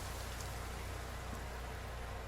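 Rain falls in the survival video game The Forest, a steady, dense wash of hiss with soft patter, even in level and fairly quiet, with no other sounds standing out.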